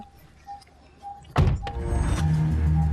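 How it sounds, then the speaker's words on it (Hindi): A car door slams shut with a loud broadband thud, followed by a second quieter knock and a low engine hum, after faint earlier bumps. "ओए बंद कर दरवाजा।"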